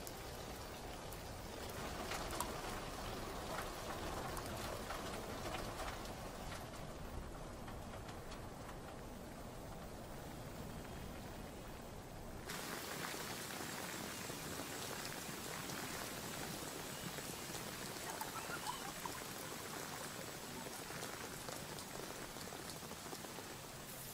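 Heavy monsoon rain falling steadily in Cherrapunji, India, a dense, continuous hiss of drops hitting surfaces that runs the whole length with no voices.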